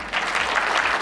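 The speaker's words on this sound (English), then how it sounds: "Big round of applause for everyone here." A brief burst of audience applause during a content marketing masterclass, dense clapping from a room full of people lasting about a second.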